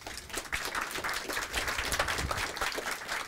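An audience at a Swedish school software release event breaks into applause, a dense, steady burst of many hands clapping close by for a few seconds.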